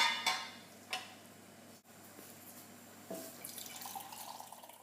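Meat stock drained from a casserole dish and poured into a jug, a soft, close trickle and splash of liquid with a few light drips and clinks, steady and quiet throughout.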